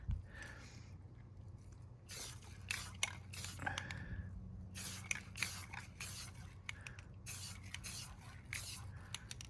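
Short bursts of spray paint hit a Safariland holster body in camouflage layers, several quick hissing spritzes separated by pauses over a steady low hum, fairly close.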